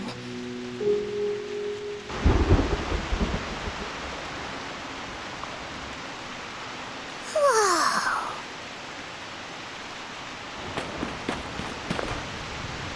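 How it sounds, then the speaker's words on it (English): Heavy rain pours outside in the Reverse: 1999 video game, with a rumbling burst early on, then a steady wash of rain, a rising swoosh midway and a voice briefly exclaiming. "What a heavy rain outside."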